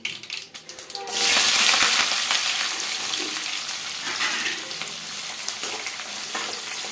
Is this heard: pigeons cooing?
no